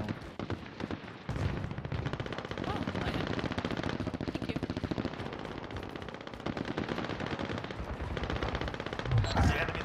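Rapid automatic gunfire in the battle royale game Call of Duty Warzone, long sustained bursts of shots rattling nearly continuously, with a player talking over parts of it.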